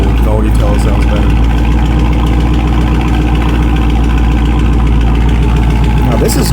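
Car idling after a mid-muffler delete, its exhaust giving a loud, steady, deep burble with even low pulses throughout, close by, with a voice speaking over it briefly.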